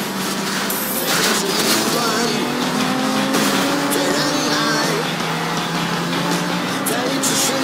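In the video game Sleeping Dogs, a car engine roars steadily as the car drives away, loud and sustained throughout, with a voice speaking over it.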